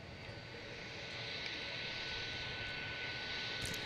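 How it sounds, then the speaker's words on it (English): A Lufthansa Airbus A350 jet taxiing across the airfield, a steady broadband engine roar with a high whine, heard from a distance at constant level. "There's the Lufthansa A350 heading back."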